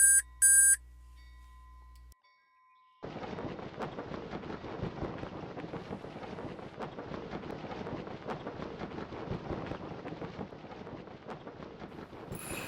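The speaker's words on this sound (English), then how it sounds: "Now normally the race director starts the countdown timer, but I'm going to start it so you can see how the timers work." Electronic countdown beeps from a sailing race timer in a sailboat racing game: a few sharp high tones and a steady held tone open the sequence, then a long stretch of dense wind and water noise follows.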